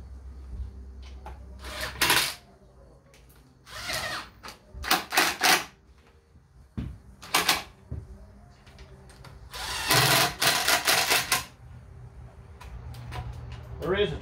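A power tool runs up the cam bolts on a supercharged 392 Hemi engine, with short, loud bursts of ratcheting whir separated by pauses and light clinks of tools and parts.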